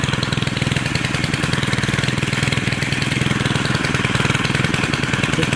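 A Stihl string trimmer engine idles close by, a steady rapid two-stroke chatter with even, unbroken pulses throughout.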